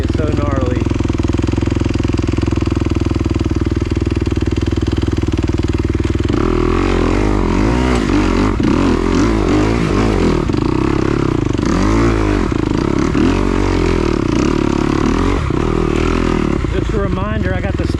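A 2021 Kawasaki KX250XC dirt bike on stock Dunlop motocross tires rides rough trails at HMT Tornado. The close, loud engine revs and rises and falls in pitch as the throttle changes, with voices at times over it.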